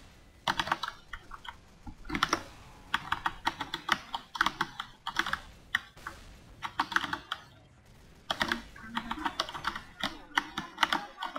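Rapid clatter of keys on a computer keyboard, bursts of fast typing separated by short pauses, close and fairly quiet with no talking.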